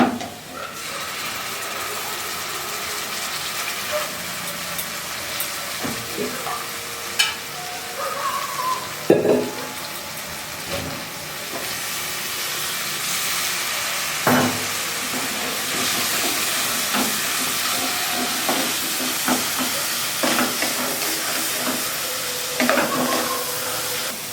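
Ground spice paste frying in a pan for potato and pea curry, a steady broad sizzle running throughout with occasional louder pops and stirring scrapes, fairly close and continuous, no voices.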